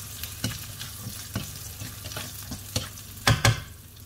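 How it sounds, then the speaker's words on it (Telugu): Garlic roasting and sizzling in a hot pan as it is stirred, with a steady frying hiss broken by several sharp scraping stirs, two louder strokes near the end, close and alone. "ఈ గార్లిక్ కూడా అంతే మంచిగా రోస్ట్ అవ్వాలి"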